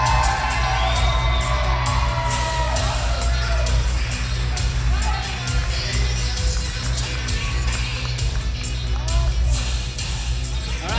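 Wedding guests cheering, whooping and clapping as the bride is introduced, a steady crowd roar with shouts and excited voices throughout, over a low music bed.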